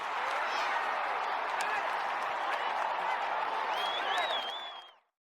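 A burst of applause sound effect: crowd clapping with scattered cheers and a whistle, loud and sustained, then cut off sharply at the end.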